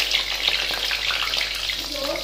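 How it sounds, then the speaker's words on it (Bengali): Eggplant slices frying in oil in a wok give off a constant, close, hissing sizzle for the whole short stretch. "আমাদেরও হয়ে গেল বেগুন ভাজা।"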